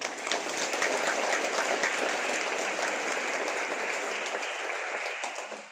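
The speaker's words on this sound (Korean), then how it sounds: "또 하나님 앞에 또 우리 영광의 박수" Church congregation in Gwangju, Gyeonggi, Korea giving sustained applause during a worship service, a dense even roar of clapping that stays strong and tapers slightly at the end.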